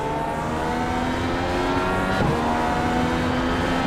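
Dallara DW12 IndyCar engine accelerating hard at Pocono on a green-flag restart, a loud, steady high-pitched whine rising through the gears, heard onboard with no talk.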